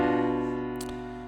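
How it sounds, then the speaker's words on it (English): A single sustained keyboard diminished triad rings out and slowly fades, with a faint breath or noise partway through; no talking. "the 7th in triad becomes a diminished chord, which sounds like this"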